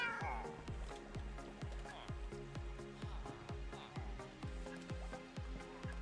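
A cat in Minecraft meows repeatedly in a steady rhythm of short, even calls, fairly faint and close, over a continuous in-game background.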